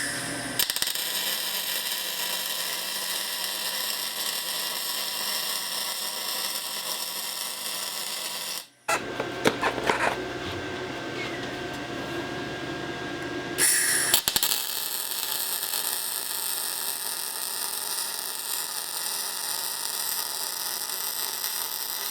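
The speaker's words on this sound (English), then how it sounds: "I've done the top two, now I'll just weld these two in." Aluminium sea door handles being welded on a boat: a steady, loud hissing buzz of the welder arc that cuts out briefly for a few seconds, then resumes continuously, with no speech.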